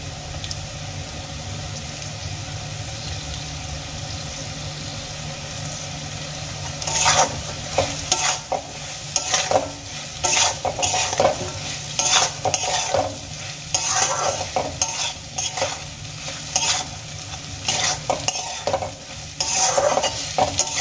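Grated ginger stir-fried with potato and soybean in a pan: a steady low sizzle, then from about seven seconds a run of scraping spatula strokes with clinks over the frying, close and alone with no talk.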